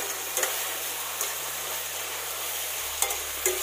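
Chilli paste sizzles in a pan while being stirred for chilli chicken, a steady close fry with a few sharp scrapes of the spoon, under a low humming drone.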